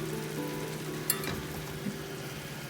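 Stuffed bell peppers with masala toasting over low heat in a covered pan: a steady, gentle sizzle with a couple of small pops, alone and close.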